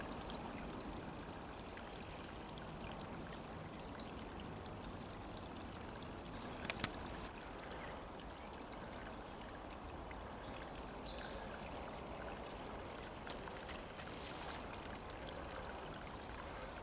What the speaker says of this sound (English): There's so much water on the land, she's formed another little stream.